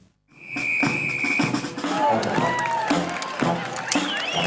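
Crowd cheering and whistling along the street at a marching band parade in Launceston during the National Band Championships, a loud sustained roar with shrill whistles and scattered clapping.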